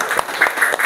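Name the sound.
group applause in classroom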